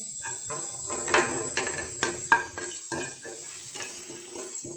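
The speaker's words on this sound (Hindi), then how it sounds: "ऑयल शामिल करते ही हम इसमें ऐड करेंगे चॉप्ड गार्लिक और इन्हें बहुत हल्का सा फ्राई करेंगे" Chopped garlic lightly frying in oil in a pan for chicken keema kachori gives a soft sizzle, punctuated by several sharp clinks of a utensil stirring against the pan.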